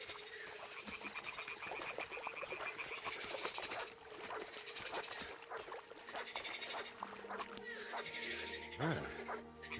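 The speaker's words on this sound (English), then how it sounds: "The toads are croaking here." Toads croak in a dense, continuous chorus of rasping calls across a marshy scene in Kingdom Come: Deliverance II, steady and fairly loud, with a low tonal hum and a brief thump near the end.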